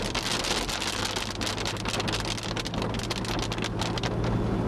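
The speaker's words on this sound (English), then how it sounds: "That's like little heavy rain bands." Heavy rain from a hurricane's outer band pounds a car, with a dense, loud, unbroken roar of drops drumming on the body and windows and a low rumble underneath.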